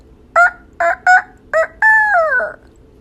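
A rooster crows close by, with four short clipped calls followed by one long drawn-out crow that falls in pitch, loud and clear over a quiet background.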